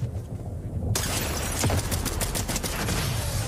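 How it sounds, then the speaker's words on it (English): Gunfire in the Fortnite video game, starting abruptly about a second in as a loud, dense burst of rapid shots that continues steadily to the end. "you're trying to shoot me?"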